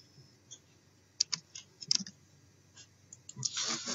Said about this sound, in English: This time I'm going to click deactivate.